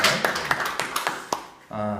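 A church congregation claps a few times in a short, uneven burst, the sharp claps fairly close and distinct, followed right after by a voice starting to speak.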